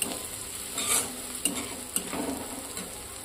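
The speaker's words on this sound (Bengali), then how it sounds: "দিয়ে পেঁয়াজ এবার আস্তে আস্তে ভাজা হতে লাগবে" Onions fry slowly in oil in a pan over a lowered gas flame, giving a steady soft sizzle, with a few light scrapes and taps of a spoon stirring, close and fairly quiet, no voices.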